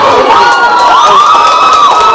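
A pageant audience at the Miss Belas 2016 gala cheers and shouts loudly and continuously, crowd noise filling the whole moment with whoops and no clear speech.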